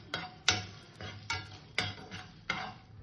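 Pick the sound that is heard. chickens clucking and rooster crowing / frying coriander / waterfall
frying coriander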